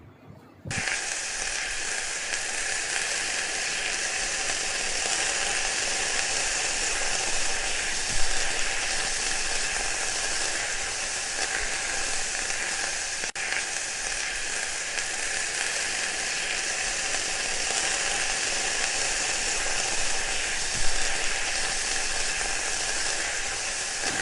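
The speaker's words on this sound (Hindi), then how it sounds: "इतनी भुनाई करेंगे कि इसका ऑयल अलग हो जाए और मसाला अलग हो जाए।" Masala for bhindi salan fries in hot oil with a steady, dense sizzle that holds at an even loudness throughout, close up and with no talking over it.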